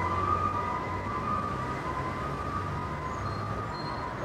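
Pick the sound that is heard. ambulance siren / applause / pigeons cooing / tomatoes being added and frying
ambulance siren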